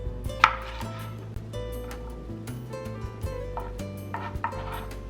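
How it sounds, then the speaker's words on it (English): Knife chopping on a cutting board, with irregular taps and clatter of kitchenware and faint background hum. "First, we're going to start by chopping our veggies."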